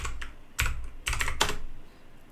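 Quick bursts of keystrokes on a computer keyboard as a terminal command is typed on an Ubuntu server, a few clustered clicks close up in a quiet room.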